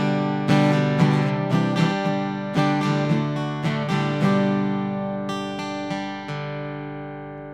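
Acoustic guitar through a Harley Benton Custom Line acoustic preamp with controls at noon, strummed and picked with bright, full chords ringing out, several strums then notes fading away at the end.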